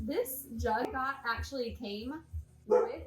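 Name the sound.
dog barking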